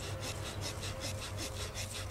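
A knife blade lightly saws back and forth across a wooden bow drill spindle, making a steady rhythmic rasping scrape that repeats in even strokes. The sound is close and continuous, with no talking.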